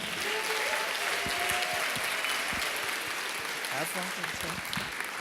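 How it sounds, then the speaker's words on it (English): A concert audience gives a comedian a warm round of applause, loud continuous clapping with whoops and cheers throughout, and voices calling out near the end. "give him a warm round of applause"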